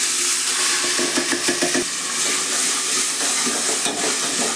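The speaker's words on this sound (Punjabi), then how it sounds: "ਮਸਾਲੇ ਨੂੰ ਆਪਾਂ ਚੰਗੀ ਤਰ੍ਹਾਂ ਦੇ ਨਾਲ ਭੁੰਨ ਲਵਾਂਗੇ" Masala spices and cumin fry in oil inside a pressure cooker for a potato and capsicum curry, making a loud, steady sizzle with a burst of stirring clatter in the first half.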